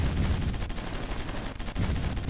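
Artillery units are destroyed in the strategy game Supreme Ruler Ultimate amid a loud, continuous crackle of rapid gunfire-like bursts and booms, sustained without pause.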